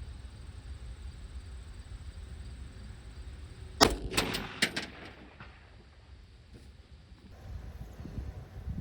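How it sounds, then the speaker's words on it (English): A single sharp FAL rifle shot fired at a 400-yard target, loud crack followed by a few quick echoing reports and fading rumble over steady outdoor wind noise. "this is my first shot at 400 yards"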